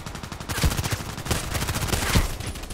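Pistol fire in a video game, rapid overlapping reports forming a dense burst of gunfire, loud and continuous with sharp peaks throughout.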